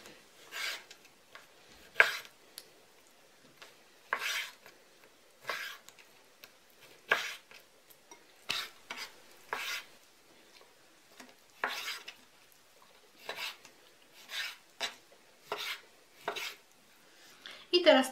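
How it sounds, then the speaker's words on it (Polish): Knife cutting fish fillets into smaller pieces on a board in a kitchen while making fish meatballs, with sharp, separate chopping strokes about once a second, close and clear against a quiet background. "Filety z ryb pokroję teraz na mniejsze kawałki."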